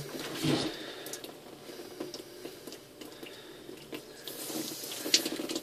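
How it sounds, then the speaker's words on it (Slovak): Water hisses and trickles steadily from a loosened air-release valve on a garden irrigation system under leftover pressure, nearby and fairly quiet, with a few small knocks and drips. "povolíme ventil. Dáme pozor, lebo bude vytekať voda."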